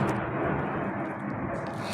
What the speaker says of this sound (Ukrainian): Це у нас так літаки літають, то не переживайте.